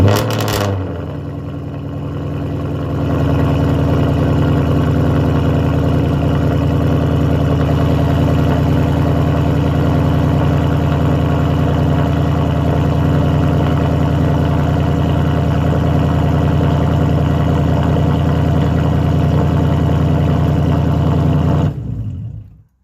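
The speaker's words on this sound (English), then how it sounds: "First cold start with the straight pipe." An engine on straight-pipe exhaust fires up from a cold start and settles into a loud, steady, rumbling idle that carries on unbroken for about twenty seconds before cutting off.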